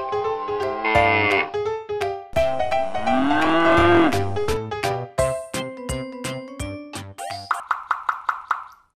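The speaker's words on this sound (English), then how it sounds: "Cow." A cartoonish cow moos in a toddler animal puzzle game, one long rising and falling call set among bright plinking game chimes and sound effects.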